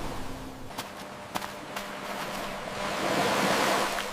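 Sea waves surge and wash in a dramatic scene before a small boat is launched, a soft rushing swell that builds toward the end, with a few faint sharp knocks early on.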